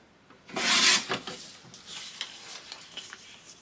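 Paper being trimmed by a sixteenth of an inch for a 12x12 layout book, heard as one loud rasping cut in front followed by faint scraping and rustling handling noises, with no talking.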